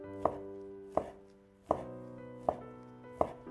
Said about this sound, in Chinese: 再切成细条， 最后切成小丁，尽量切小一些